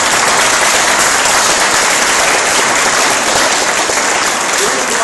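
Loud, dense applause from an audience at a stand-up comedy show, continuous and close throughout.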